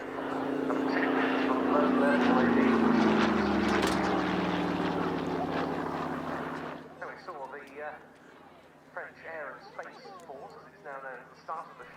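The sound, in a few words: warbird propeller aircraft flying solo display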